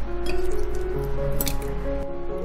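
Raw pork pieces are placed into ceramic stew pots, giving close, soft wet squishes and a light clink of contact under a low steady hum.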